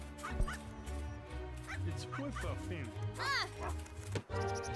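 Several barks, yips and whimpers from a dog in the video game Dog Football, coming in irregular bursts over game music and effects.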